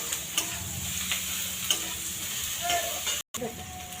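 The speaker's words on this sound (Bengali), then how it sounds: "দিয়ে এবার এইটার সঙ্গে তেলের সঙ্গে আমি এগুলো দিয়ে কষবো।" Boiled kharkol leaves fry in hot oil and get stirred in a pan, giving a steady close sizzle with scraping stir strokes and a few light clinks throughout.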